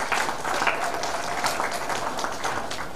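A large audience claps at a university convocation's annual general meeting, a dense, steady wash of applause that fills the whole moment without pause.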